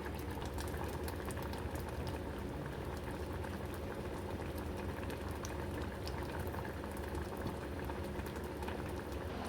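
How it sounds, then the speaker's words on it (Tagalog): A pot of water for dinengdeng at a steady rolling boil, bubbling and churning continuously at close range with no voices. "Kumukulo na."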